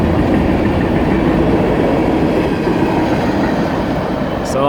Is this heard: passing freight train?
yes